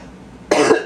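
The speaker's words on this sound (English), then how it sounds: "Thank you for bearing with my coughing and hacking up along." A single harsh cough bursts out after a moment of near silence, close and loud, with a brief second burst starting right at the end.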